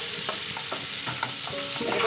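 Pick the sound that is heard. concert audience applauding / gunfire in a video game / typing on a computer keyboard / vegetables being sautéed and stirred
vegetables being sautéed and stirred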